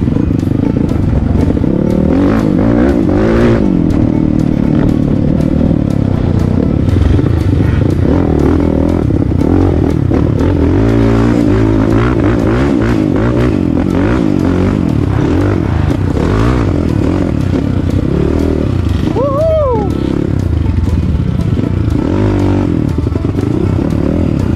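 Engines revving hard through a rocky river race, a loud continuous roar with clattering and scraping underneath and pitch swells as throttles open and close throughout.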